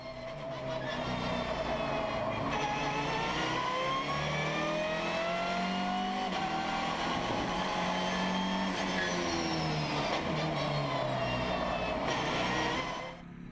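Onboard a Lamera Cup race car at Nogaro, the engine roars loud and close, revving up through the gears, easing off for a braking zone and climbing again, continuous for the whole stretch with no voices.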